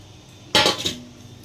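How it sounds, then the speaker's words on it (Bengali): Potato pieces tipped into a cooking pan for a prawn and banana-flower curry, giving one sudden loud clattering burst of clinks and knocks that tails off within half a second, alone with no talk. "এবার এর মধ্যে আমি আলুটা দিয়ে দিচ্ছি"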